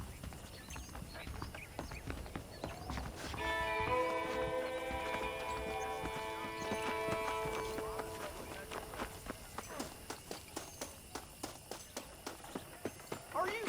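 Horse hooves clip-clop in a steady rhythm in Red Dead Redemption, a ranch-hand setting, carrying on through the whole stretch under a tonal musical swell in the middle, with rhythmic thuds getting sharper near the end.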